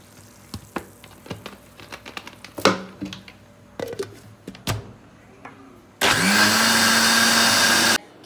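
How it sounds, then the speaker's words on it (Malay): A kitchen blender whirs loudly for about two seconds near the end as it blends dried chillies and garlic with water. Clattering and knocking of the jug and lid come before the steady motor roar. "Kita dah blender cili kering dengan bawang putih."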